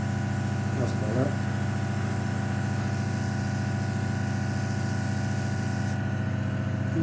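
Steady hiss of an airbrush spray-coating a 1/72 Hasegawa F6 Lightning scale model aircraft, continuous and close over a constant compressor hum, with brief faint noises early on.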